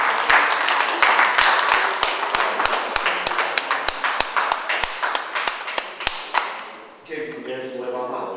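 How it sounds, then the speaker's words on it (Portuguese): A fado show audience in Custóias, Leça do Balio, claps with sharp, distinct, evenly spaced hand strikes that gradually thin out. The clapping stops, and a person begins speaking near the end. "um aplauso"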